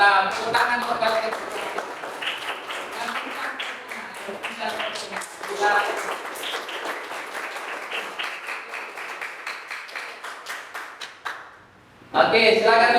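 Classroom applause from students in an Islamic jurisprudence lesson, dense clapping running steadily for about eleven seconds before a brief lull and a fresh burst of hands.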